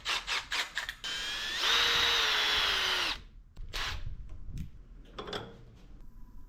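A power drill twists a looped length of MIG welding wire clamped in a vise: a few quick trigger bursts, then a sustained rising whine lasting about a second and a half, followed by quieter handling noises.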